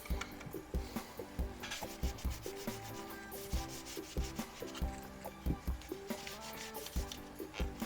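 Crosman 180 air rifle parts are scrubbed with a brush and solvent, giving quick repeated close rubbing strokes in an uneven rhythm, fairly faint and without talk.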